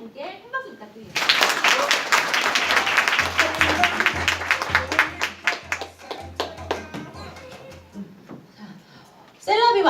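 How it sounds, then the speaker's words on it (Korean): Audience applause at an indoor product presentation, a burst of clapping that starts abruptly, stays lively for several seconds, then thins out into scattered claps before a voice returns. "이렇게 수고해주신 분께 큰 박수 부탁드립니다"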